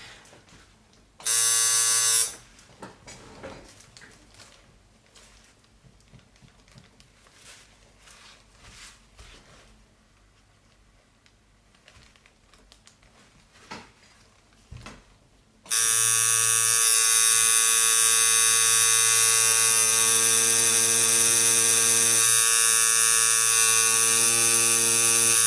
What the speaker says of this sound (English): They are professional tattoo machines.